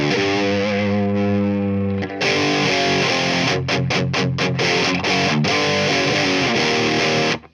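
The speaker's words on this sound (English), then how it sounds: "We have a distortion pedal now. Just crank the drive and boom." An electric guitar played through a DOD 250 op-amp distortion pedal with the drive cranked, loud and saturated: a sustained chord rings out, then a string of choppy, rhythmic strummed hits with short gaps before cutting off.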